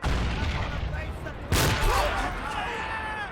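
A Marine's grenade goes off in the Men of War: Assault Squad Saipan 1944 battle, a sudden loud burst partway through that follows a steady din of distant gunfire and leaves a long rumbling tail.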